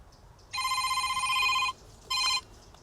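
A TT990 Android flip phone rings with an incoming call: a loud, close electronic ringtone sounding in one long burst, then a short pause and a briefer second burst.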